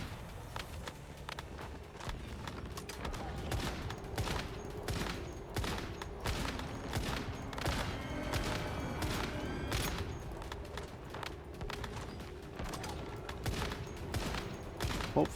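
Rapid, repeated gunfire bursts from shooting enemies in the video game Zone of Haze, dense and continuous throughout, with sharp shot transients layered over mechanical clatter and footsteps.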